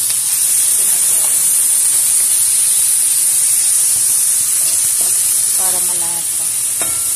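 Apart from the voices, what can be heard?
sautéing mushrooms with chicken breast in a pan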